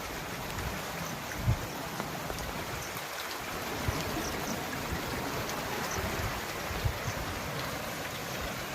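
Floodwater rushes strongly over a main road outside a house, a steady broadband rushing flow with a few faint knocks, continuous and moderately loud.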